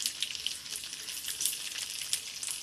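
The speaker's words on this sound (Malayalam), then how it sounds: "ഓരോന്നും കടുവ് പൊട്ടിക്കുന്നു." Mustard seeds splutter and crackle in hot coconut oil while pickle is being made at home, a steady, fairly faint sizzle with sharp pops scattered throughout and no talking.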